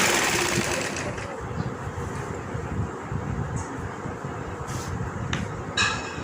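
A sewing machine runs steadily up close, its needle chattering in a rapid mechanical rhythm as lace is stitched around the edge of a dupatta.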